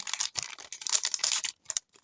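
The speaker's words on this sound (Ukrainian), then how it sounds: "І давайте відкриємо наші два пакетики з вами." Small gift packets from an advent calendar being opened, with close crisp plastic crinkling and tearing in short irregular bursts separated by brief pauses.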